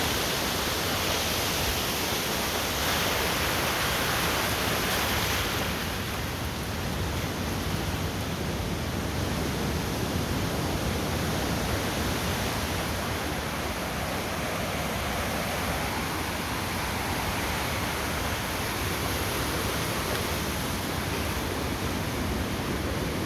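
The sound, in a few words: sea waves washing in at the Bay of Bengal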